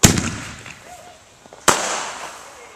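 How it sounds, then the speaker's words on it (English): Fireworks set off just after midnight at New Year give two sharp, loud bangs about a second and a half apart, each fading into a crackling tail. "After 12 o'clock, we lighted a few fireworks."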